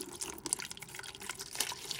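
Warm water poured into a pitcher, a soft, fairly quiet stream of liquid with splashing and dripping, steady and close, with no talk.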